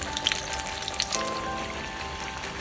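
Poha cutlets frying in oil over a medium flame, a steady soft sizzle with faint crackling pops near the start, fairly quiet and without talk.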